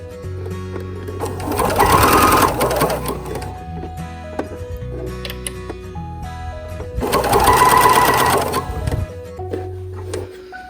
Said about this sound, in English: Last seam, sewing the hood on.